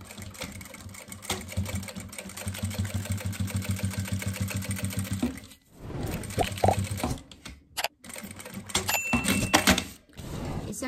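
A sewing machine topstitches a seam on a zippered fabric toiletry pouch with a front pocket, rattling in a fast, even run of stitches that stops and restarts in short bursts after a pause, close and alone.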